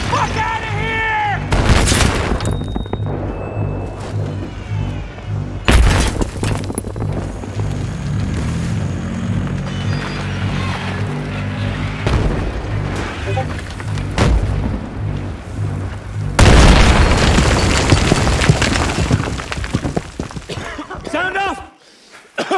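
Heavy gunfire and booming explosions from a T-90 tank battle in the video game Battlefield 3, loud and continuous with a big blast late on, while voices shout over the chaos.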